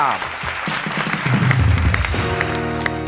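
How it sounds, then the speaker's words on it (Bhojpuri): A television show studio audience bursts into applause, a dense clapping wash building mid-clip before fading under musical tones, with a presenter's voice over it. "जोरदार तालियां।"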